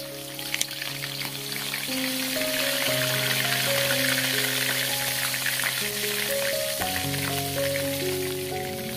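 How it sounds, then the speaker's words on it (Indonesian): Spice paste sautés in hot cooking oil over a medium stove flame, giving a steady close sizzle and crackle throughout, with soft background music tones and no talking. "Lalu bumbunya kita tumis."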